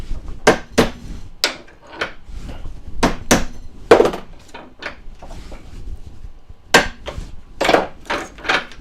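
Hammer tapping on silverware pieces while working an order, a series of sharp metallic-wooden knocks in irregular clusters, close and fairly loud with short pauses between strikes.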